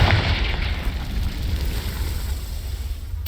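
A loud Confringo blasting spell explosion in the Hogwarts Legacy video game roars as a sustained, rumbling burst that slowly tails off over a few seconds.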